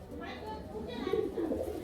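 A female Indian Nazra Kaldam pigeon, large and jet black, gives soft low cooing close by, with someone talking over it.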